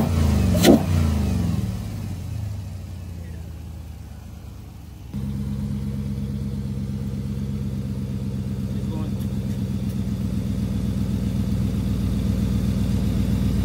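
An SRT Jeep fitted with an Injen cold air intake turns over and settles into a deep, loud steady idle rumble, following a short stretch of handling noise and quiet, and holds that continuous low drone throughout.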